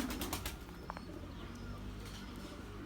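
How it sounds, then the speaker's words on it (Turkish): Mardin pigeons flapping their wings close by, a quick burst of soft papery wingbeats at the start followed by faint bird sounds over a low outdoor background hum. "Kanat sesleri mükemmel."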